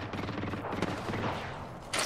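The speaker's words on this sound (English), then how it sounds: "You got to shoot just to charge your weapon." Weapon fire in a team deathmatch shooter game, a dense, steady burst of shots running nearly continuously for about two seconds with a brighter crack near the end.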